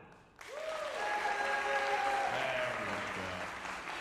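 Recital audience applauding a guest tuba artist, clapping that starts abruptly after a brief quiet moment and builds into a steady round, with a faint sustained tone ringing under it.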